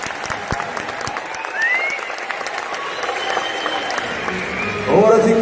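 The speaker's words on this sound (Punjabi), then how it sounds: "ਚੰਗੀ ਗੱਲ ਲੱਗੇ ਤਾੜੀ ਜ਼ਰੂਰ ਮਾਰ ਲਓ।" Applause from the audience at a 2018 live show, steady clapping spread through a crowd for several seconds, swelling louder near the end, with a voice or music tone briefly rising over it.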